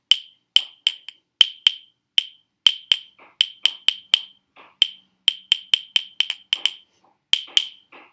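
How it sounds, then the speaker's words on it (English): Claves, a pair of wooden percussion sticks common in Latin American music, struck in a bright, sharp, clicking rhythm of about two dozen hits with uneven spacing and short pauses, close and clear with no voices. "I am also going to play this on the claves"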